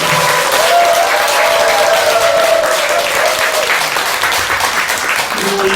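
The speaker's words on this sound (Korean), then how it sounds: "강성사 주지신 소나운 큰 스님께 박수 한번 드립니다." Sustained applause from a large crowd at a Buddhist dharma service fills the whole stretch, steady and loud, with a faint tonal hum running underneath.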